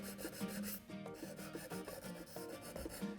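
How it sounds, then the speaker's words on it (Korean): Rapid back-and-forth rasping of finishing sandpaper smoothing raised grain on a wooden bookshelf, repeated strokes in a steady rhythm, close and fairly loud. "이런 부분들을 마무리 사포에서 잘라줄 거예요."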